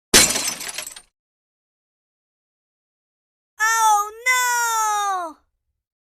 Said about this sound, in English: I broke the jug.